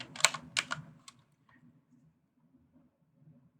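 A few quick bursts of keys tapped on a computer keyboard, close and crisp, followed by near silence with faint background hum.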